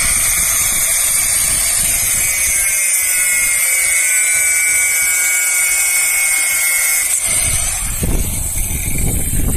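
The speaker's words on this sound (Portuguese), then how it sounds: "Aí ele corta na maquita com disco próprio para cortar ferro" An angle grinder fitted with an iron-cutting disc cuts an iron bar, giving a loud, continuous high whine and hiss of grinding metal that drops away near the end before another harsh burst.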